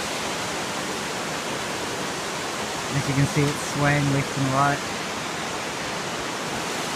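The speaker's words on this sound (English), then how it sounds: "Very scary. The waterfall." Waterfall on a bush walk, a steady broad rushing wash of falling water that fills the whole clip, with someone talking briefly over it midway.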